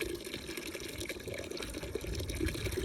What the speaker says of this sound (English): what you do is throw the water that they're going into the bucket. You want to throw a little bit at a time.